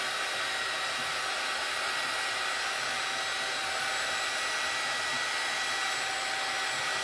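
A hair dryer blowing over an ink stamped artwork to dry it, a steady, even whoosh of airflow and motor hum that holds constant throughout with no talking.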